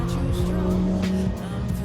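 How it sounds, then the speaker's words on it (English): A car engine revs loudly and nearby at a track day at Anglesey Circuit, its pitch rising and falling, with a voice talking over the noise. "What a car."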